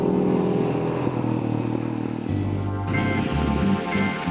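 An enduro motorcycle rides through a Romanian setting with a steady engine drone and shifting pitch as the rider works the throttle, with a short change in tone partway through.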